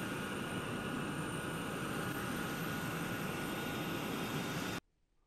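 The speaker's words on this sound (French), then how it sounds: "L'avion il est juste derrière." An airplane at an airport produces a loud, steady roar of engine noise that fills the scene for several seconds before cutting off abruptly.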